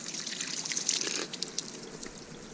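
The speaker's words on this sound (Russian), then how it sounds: "значит воду набираю" Water trickling and dribbling as it is collected in an abandoned underground military site, a faint continuous splashing trickle with small drips, no voices.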